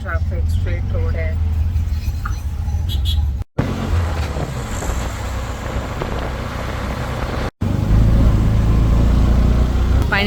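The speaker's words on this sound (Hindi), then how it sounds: "रिक्शा में बैठ गई हूँ." An auto-rickshaw rolls along a straight road with no traffic, its steady engine rumble and road noise running continuously close by, broken by two brief dropouts, while someone talks over it.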